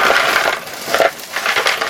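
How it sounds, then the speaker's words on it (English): TTL logic chips are pulled out of plastic bags, making close, continuous crinkling and rustling with a few louder crackles. "Let's get them out of these plastic bags"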